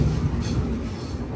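The Howrah to Kanyakumari Superfast Express crosses the Godavari road-cum-rail bridge at Rajahmundry, a brief, steady, close rolling rumble of the moving train.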